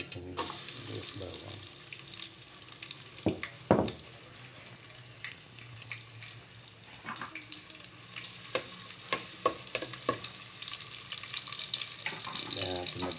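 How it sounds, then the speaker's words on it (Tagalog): Garlic and onion sautéing in hot oil in a pan, a soft steady sizzle with scattered sharp clinks and scrapes of a utensil stirring, fairly quiet and close, no talking. "Gisado ng ating sibuyas at bawang."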